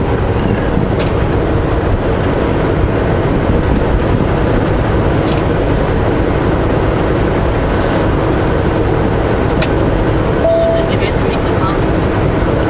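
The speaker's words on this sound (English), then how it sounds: "Trains are loud." A loud train rumbles steadily past near a road, a dense continuous roar with faint high squeals and clatter; voices talk briefly underneath.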